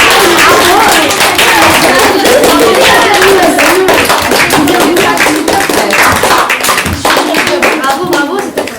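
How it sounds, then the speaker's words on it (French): Children applauding at the end of a philosophy workshop, loud close clapping from a small group, continuous and fairly rapid, slightly thinning toward the end, with some voices mixed in. "d'abord, applaudissez-vous pour la séance."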